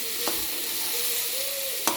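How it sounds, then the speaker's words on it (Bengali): Spinach frying in a pan, a steady soft sizzle with a couple of sharp spatula scrapes near the start and end, close and alone without speech. "পালং শাকটা ভাজা ভাজা হয়ে আসবে, একটু ভাজতে হবে"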